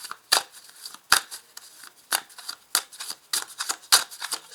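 Tarot cards being drawn and handled, a string of sharp papery flicks and slaps at irregular intervals, close and clear with quiet gaps between each card movement.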